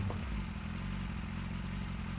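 Motorcycle engine rumbling steadily from behind the rider on a hot-weather ride, a low continuous drone heard close with no talking.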